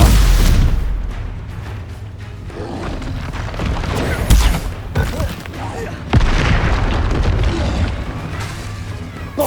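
Booming spell explosions from the Bombarda curse in the Hogwarts Legacy video game, several heavy blasts across a dense battle mix, loud and close, with a voice speaking between them.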